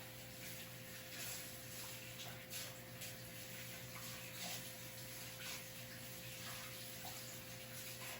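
Frozen chicken is washed under running tap water in a sink, a steady, faint hiss of flowing water with light splashes and no talking.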